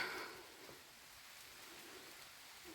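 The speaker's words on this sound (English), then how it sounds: "It started raining again." Steady autumn rain patters on the leaves of thick forest trees, a soft even hiss close around, with no voices.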